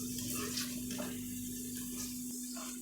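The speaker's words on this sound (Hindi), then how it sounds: "अब 2 से 3 गिलास हम इसमें पानी ऐड कर देते हैं आलू को टेंडर होने के लिए।" Water poured from a glass into a pot of potatoes and meat being cooked, a steady splashing gush heard close, with a faint sizzle underneath and no talk.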